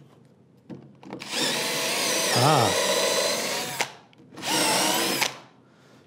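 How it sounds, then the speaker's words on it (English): A power drill whirs loudly into wood in two long bursts, pitch dipping briefly under load, with a short pause between and a brief exclamation. "Let me try drilling this a little deeper."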